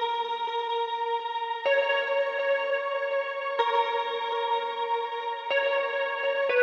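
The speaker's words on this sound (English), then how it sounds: "As we continue, we have this plug guitar coming in." A plucked guitar patch from the Nexus synth rings out in sustained, bright chords with chorus and echo, each new chord striking at roughly two-second intervals in a steady, loud pop ballad texture with no voices.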